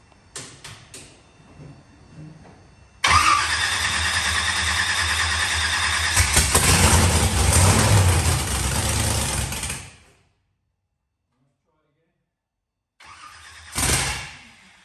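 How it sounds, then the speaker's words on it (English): A methanol-fuelled engine, with its injectors removed, is started on petrol poured straight into the top. It cranks briefly, then catches and roars loudly for several seconds before cutting out abruptly. After a silence, a short burst follows. "pour a little bit of petrol in it and start it up"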